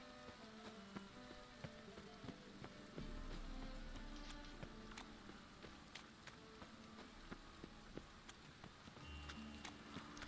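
Steady rain pattering in The Witcher 3, a continuous hiss of drops on surfaces with scattered sharper ticks and a low rumble swelling partway through, no voices over it.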